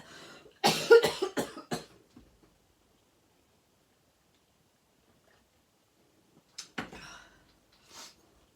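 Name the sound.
cough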